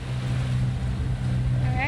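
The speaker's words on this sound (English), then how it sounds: "We just drove out of the marina at Rethymno" A motorboat motors out of the marina at Rethymno on Crete, its engine a steady low drone with wind noise over it, close and continuous.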